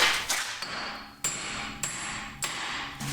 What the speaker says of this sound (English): Go ahead and give them a whack.